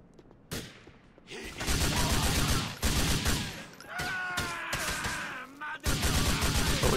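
Rapid bursts of gunfire in the video game GTA IV, loud and close, coming in several sustained volleys separated by short gaps, with some mechanical clatter in between.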